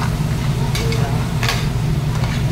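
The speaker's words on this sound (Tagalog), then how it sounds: "Mix lang natin para masiksik ang kanyang sauce." Crab being stirred in alavar sauce in a pan, a steady low bubbling sizzle with a few soft scraping strokes of the spoon, close and continuous, no voices.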